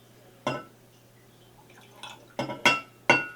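Ginger ale goes into a measuring cup in several short, separate bursts of splashing and clinking glass, close and fairly loud over a quiet steady hum.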